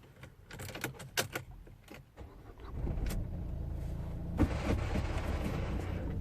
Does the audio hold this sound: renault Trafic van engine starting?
yes